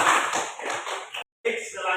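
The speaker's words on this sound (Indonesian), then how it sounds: "Tepuk tangan dulu," Students clapping in a fifth-grade classroom, a dense patter of many hands that breaks off abruptly for a moment and then resumes, close and moderately loud.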